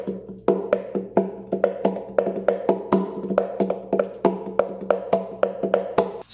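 A Flight tenor ukulele body is tapped as a drum, giving deeper, conga-like knocks in a brisk, even rhythmic pattern of hand strikes, heard close and alone without speech.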